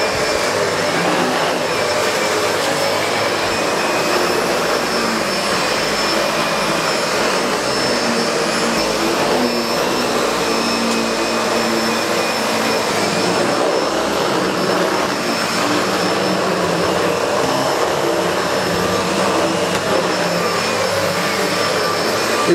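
SEBO Felix upright vacuum cleaner running with its brush roll on across carpet, a loud continuous motor whine and airflow roar with a high steady tone, close and unbroken throughout.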